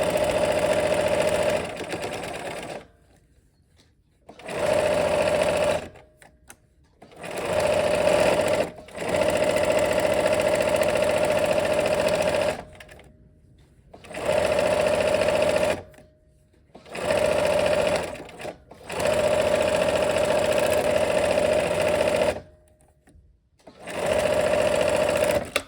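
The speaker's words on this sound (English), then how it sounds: "Okay, let's go ahead and sew." Sewing machine stitching strips of quilt fabric, running in steady mechanical bursts of several seconds each, separated by short silent pauses, close and fairly loud with no talk.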